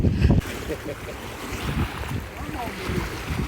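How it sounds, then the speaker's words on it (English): Wind at 10 to 15 knots blows over cold open water from a boat during a fishing tournament, a broad steady rush with wind buffeting the microphone and a loud gust at the start. "Winds are like 10 to 15 knots."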